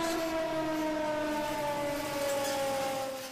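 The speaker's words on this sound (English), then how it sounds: "A siren whose future will likely depend on the volume made by villagers." A village civil-defense siren sounds its daily noon alarm, a loud steady wailing tone held for several seconds and beginning to fade at the end.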